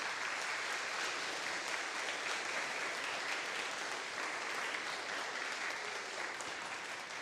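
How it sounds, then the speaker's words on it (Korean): A church congregation claps for its teachers in a steady, even wash of applause from many people, heard from a distance and without talk. "우리 박수로 좀 감사의 뜻을 전할까요?"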